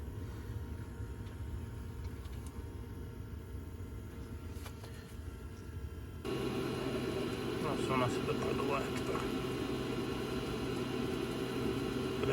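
A Webasto parking heater in a VW Passat B8 purges itself after its fuel supply cuts off. A steady blower-like whir and hum jumps noticeably louder partway through, then holds at that level.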